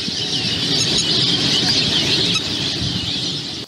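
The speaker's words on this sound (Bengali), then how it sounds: "পাখির কিচিরমিচির শব্দ" Dense chorus of birds chirping steadily at a Bangladeshi wetland tourist spot, Rakta Bil near Hatirpul in Raninagar, Naogaon, with clay pots hung in trees; a continuous, busy twittering wash runs throughout at fairly close range.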